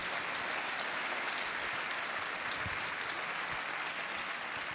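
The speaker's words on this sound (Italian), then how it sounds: "un applauso anche per loro." Steady applause for the youth volunteers at a public talk event, a dense, uniform patter of clapping from a seated audience with no speech over it.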